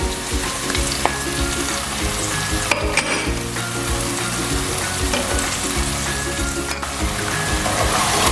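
Tofu and pork are stirred through soy and oyster sauce in a hot pan for tokwa't baboy, a loud close sizzle with steady scraping stir strokes and a couple of sharp utensil clacks, no talking.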